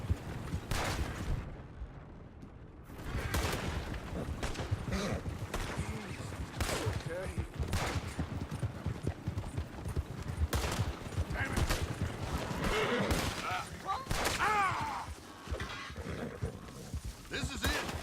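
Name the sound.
gunfire in the video game Red Dead Redemption 2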